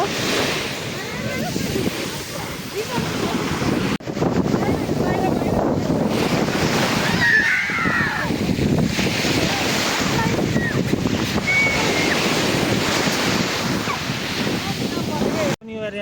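Sea waves breaking on the shore at Durdle Door, a continuous loud roar of surf and wash mixed with strong wind buffeting the microphone throughout.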